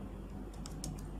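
Fingers tap a few quick, faint keystrokes on a Mac keyboard, soft clicks over a low background hum in a very short burst.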